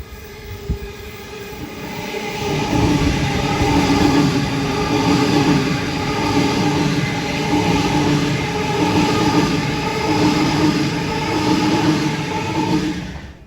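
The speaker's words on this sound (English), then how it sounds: "So the first train after 7 AM was a Waratah Series 1 train" A Sydney Waratah Series 1 electric suburban train passes Petersham on the up line, a sustained loud rumble and whine of motors and wheels holding steady throughout, with no voices.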